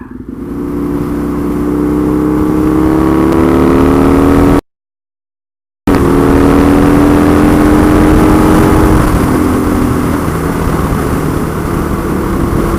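A Husqvarna Nuda 900R motorcycle engine pulls hard under acceleration on a test ride, rising in pitch through the revs with heavy wind rush. A brief total dropout cuts in midway, and then the loud engine drone continues.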